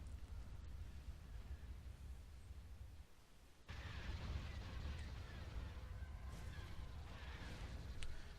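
Large explosions in a space battle from the Star Wars Thrawn's Revenge strategy game, with a blast blossoming from a starship hull: a steady low rumble that surges into a louder, broader burst partway through and carries on.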